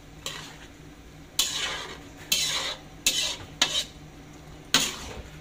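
A spoon stirring lomi soup in a pot as the broth thickens, several scraping, sloshing strokes against the metal, each a few seconds apart, over a low background hum.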